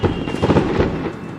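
Daytime fireworks go off in China, heard as a quick cluster of muffled, rumbling pops and bursts at a moderate distance, lasting just over a second with no talking.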